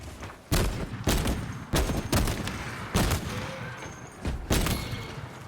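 Heavy cannon shots boom out one after another in Space Marine 2, six loud, close blasts at irregular intervals, each with a ringing tail.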